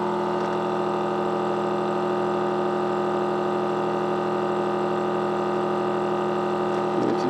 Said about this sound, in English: it is slowly sucking the air out of that bag